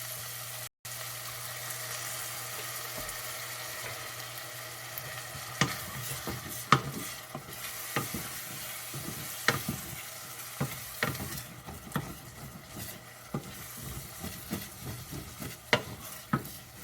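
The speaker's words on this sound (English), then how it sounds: "I'm going to have a small amount of mushroom stock just to deglaze the pan" Mushroom stock poured into a hot pan to deglaze it for a chicken mushroom vegetable soup: a low steady sizzle underneath, then a series of irregular scraping and stirring clicks as the pan is worked, close and moderately quiet.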